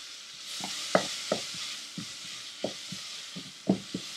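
Onions with salt and turmeric sizzling in a pan beneath a soft continuous hiss, punctuated by close, uneven spatula knocks and scrapes as they are stirred, no talking.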